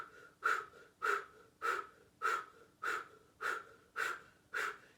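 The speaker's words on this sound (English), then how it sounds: "And now start that breathing." Rhythmic yoga breathing exercise, eight strong, evenly spaced forceful breaths about half a second apart, close and clear with nothing else heard.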